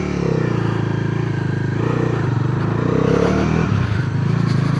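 A Bajaj Dominar 400 motorcycle with its new 350cc engine runs with a steady, throaty exhaust note, close and loud, holding a continuous low rumble with slight rises in revs and no talking.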